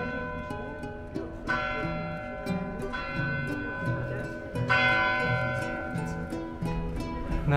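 Church bells ringing in the bell tower of Vank Cathedral in Isfahan, repeated resonant strikes with lingering tones, heard alongside background chatter.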